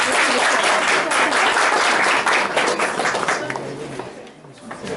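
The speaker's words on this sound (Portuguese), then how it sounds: "Só salva de palmas, por favor" Audience applause at a panel debate for the national day of struggle of people with disabilities, a dense burst of clapping that thins and tapers off over the last seconds.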